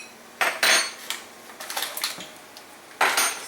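A spoon stirs sugar and Sure Gel pectin powder in a cup, giving a few sharp clinks and scrapes at uneven intervals, close and fairly loud, with no voices.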